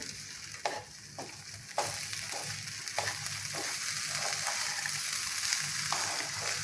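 Bajra khichdi with peas being stirred in a pot, a steady sizzling bubble with a series of regular spoon scrapes and knocks in the first half, alone with no talk.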